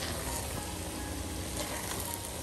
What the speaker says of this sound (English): And plantain is frying here.